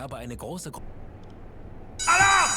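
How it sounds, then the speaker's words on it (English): A submarine alarm in the U-boat video game UBOAT, a harsh electronic buzzing tone that bursts in loud near the end, right after someone speaks. "Alarm!"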